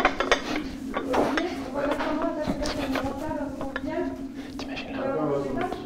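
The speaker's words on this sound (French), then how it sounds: "Alors, je vais poser la table." Dishes and cutlery clink and clatter as a table is set, a run of scattered light knocks and chimes under steady conversation in a room.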